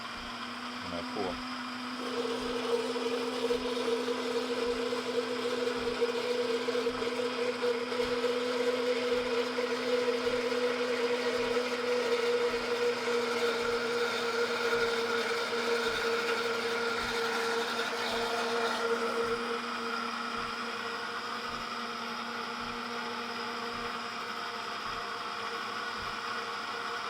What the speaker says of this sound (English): I'll start my blender again.